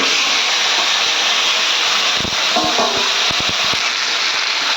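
Loud, steady hiss of ingredients with salt and turmeric hitting hot oil with cumin, sizzling close up, with a run of faint clicks and taps from the pan partway through; no talking.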